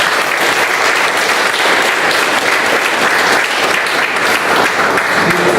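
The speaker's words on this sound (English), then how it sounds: "Can we have a huge round of applause for all the great mentors?" Steady, dense applause from a Toastmasters club audience in Bombay honouring its mentors, filling the room evenly at full strength for several seconds with no talk over it.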